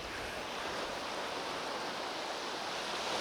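Ocean waves roll into a beach at sunset, a steady, even roar of surf with a windy hiss and no distinct breaks.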